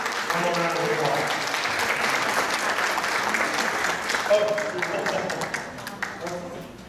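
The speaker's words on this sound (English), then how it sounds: "Come on, round of applause." A round of applause from the audience at a dementia caregiver resources summit, steady dense clapping that fills the room for several seconds before thinning out, with scattered voices over it.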